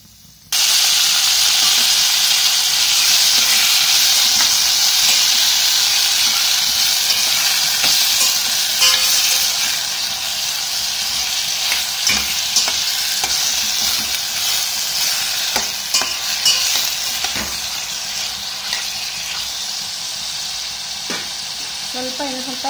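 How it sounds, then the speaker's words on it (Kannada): Green chili, potato and tomato drop into hot oil with a loud, steady sizzle and hiss that carries on for about twenty seconds, broken by occasional stirring clicks and scrapes. "ಎಣ್ಣೆ ಬಿಸಿ ಐತೆ ಹಾಕೋತೀನಿ."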